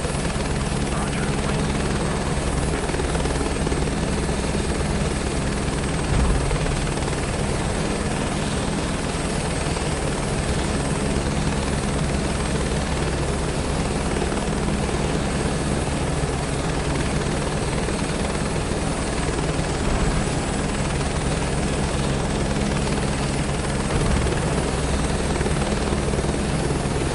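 Simulated helicopter rotor and engine noise from a flight simulator game, a loud continuous whirring drone that holds steady throughout, with radio-style speech heard intermittently over it.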